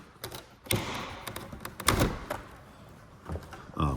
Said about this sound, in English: that door closed for the garage